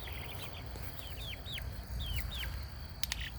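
Baby chickens put to bed for the evening, giving soft repeated chirps and occasional clucks against a low rumbling background, fairly faint and close.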